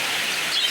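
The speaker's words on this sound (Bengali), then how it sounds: "প্রচন্ড বৃষ্টি হচ্ছে" Heavy rain pours down during a storm, a dense, steady hiss filling the whole moment, with a few faint bird chirps rising briefly above it.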